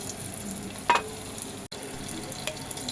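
Bay leaf, dried and green chillies and five-spice tossed into hot oil left from frying fish, a close, steady hissing sizzle with a brief louder crackle near the start and a short dropout partway through.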